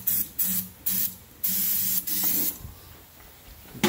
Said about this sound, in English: Spray a little bit more starting fluid in this thing real fast.